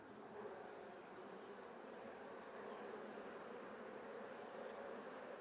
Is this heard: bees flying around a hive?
yes